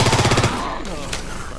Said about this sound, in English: Check your fire! Watch where you're shooting!